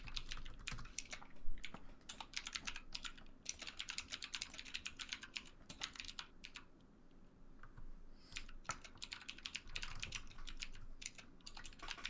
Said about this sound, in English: It looks like you're typing to save the world over there, man.